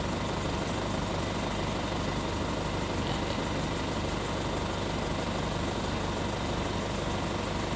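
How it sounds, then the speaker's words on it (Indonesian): An Isuzu Elf long-wheelbase minibus idles with its air conditioning running, giving a continuous, even engine drone and hum that stays steady throughout, with no talk over it. "Kita hidupkan AC-nya ya."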